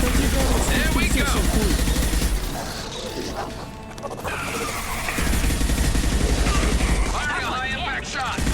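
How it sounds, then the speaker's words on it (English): Gunfire and mechanical weapon noise from the Mass Effect 2 Legendary Edition video game, dense and continuous bursts throughout, with game voices talking over the shooting. "Firing a high impact shot!"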